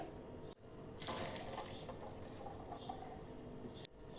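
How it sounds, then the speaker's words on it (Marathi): Water being strained from cooked lentils, a faint, steady trickling pour that swells louder for a few seconds and continues softly to the end. "आता ही डाळ आपण गाळून घेऊया"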